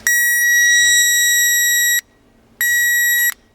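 Power Probe 3 circuit tester sounding two loud, steady electronic beeps with a piercing high tone, the first about two seconds long and the second shorter after a brief pause.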